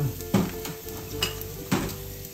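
Fresh garlic added to hot annatto oil in a pan over medium heat: a soft sizzle with a few distinct clinks and scrapes of a utensil against the pan, close and moderately loud.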